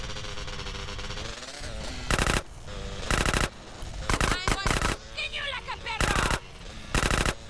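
Gunfire in the PC game GTA San Andreas: several loud, close bursts of rapid automatic shots separated by short gaps, over ongoing game sound.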